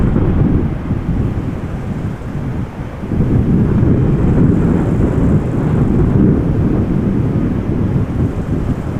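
Airbus A340-300 airliner climbing out after takeoff, a loud continuous broadband roar with rumbling low end and wind buffeting, steady throughout with a brief dip early on.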